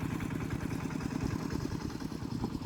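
A farm tractor engine runs steadily near rice fields, its low, rhythmic chugging pulse continuous and fairly close throughout, with no talk over it.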